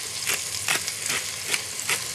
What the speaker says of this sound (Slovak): základ orestujeme do zlatohneda